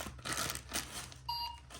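A toy cash register scanner beeps once, a short bright electronic tone, as crackers are scanned during a children's shopping game, faint and close, with light crinkling and handling noise around it.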